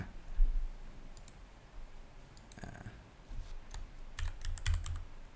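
Soft, scattered clicks of typing on a computer keyboard while an email subject line is entered, quiet and irregular over faint room noise.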